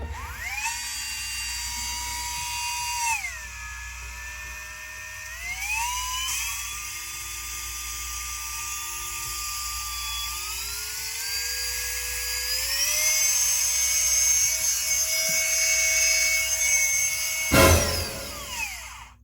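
A small Ram micro motor rotary tool, fitted with new brushes, whines continuously at a high pitch, stepping up in pitch several times as its speed rises, with a brief clatter near the end.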